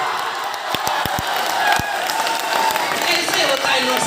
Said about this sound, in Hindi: अगली पंक्ति में ताली बजाइएगा